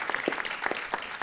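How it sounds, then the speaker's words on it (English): Scattered clapping from attendees at a city council meeting forms a brief, moderately loud round of applause. "Let's give him another round of applause for all the work that you've done."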